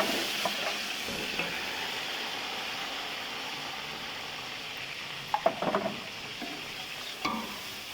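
Steady oil sizzle of golden onions frying in a pan with garlic-ginger paste, with a few spoon stirs and clinks partway through, no talking.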